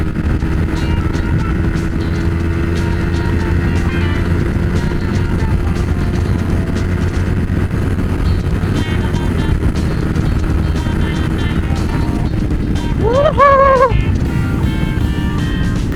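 A manual motorcycle cruises at steady speed along a long, smooth, straight road, its engine a constant droning rumble mixed with heavy wind rush, with a brief rising tonal whine near the end.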